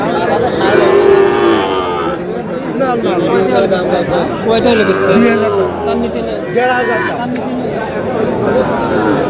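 A Sahiwal bull calf moos amid a busy crowd of chattering people at a cattle market in Dinajpur, the low calls recurring several times through steady background talk.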